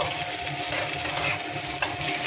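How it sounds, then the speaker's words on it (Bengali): Grated onions frying in a pan for butter paneer, giving a continuous dense sizzle close up, with a faint stir or scrape near the end and no talk. "এটাকে একটু ভাজা ভাজা করে নেব।"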